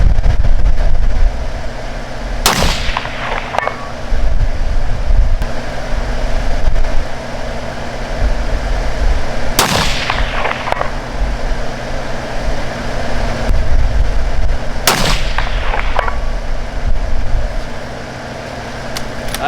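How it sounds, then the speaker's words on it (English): Three loud, sharp rifle shots crack out several seconds apart while plinking at targets, each with a short decaying tail, over a constant low engine idle in the background. "We're gonna shoot a couple more, mainly just to start plinking now."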